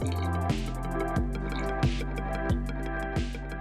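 Melted butter poured into milk as wet ingredients for gluten-free pancakes, heard as a steady liquid trickle with soft repeated drips and splashes, close and moderately quiet, with no talking.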